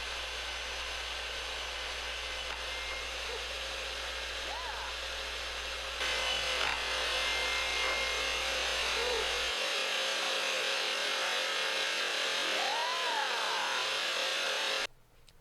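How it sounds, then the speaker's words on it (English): A steady, harsh buzz of a small power sander sanding small brackets runs continuously, close and loud, stopping abruptly at the end. "And sanding off the brackets."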